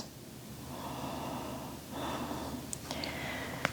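Slow, audible breaths during a beginner yoga session, with a long inhale followed by a deeper exhale, close to the mic and fairly quiet, ending with a few faint clicks.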